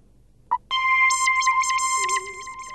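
A phone ringtone starts after a brief click, playing a loud, steady electronic melody that then drops in level as it continues, heard on its own without speech.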